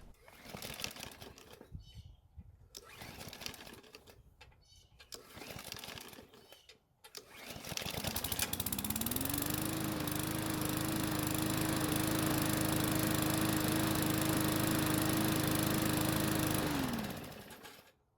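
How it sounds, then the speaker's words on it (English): Hot lawn mower engine pull-started again after running several minutes: a series of rattling pulls on the cord, then the motor catches and runs loud and steady for about ten seconds before cutting off. "Let's see if it'll start back up with 1 or even 2 pulls."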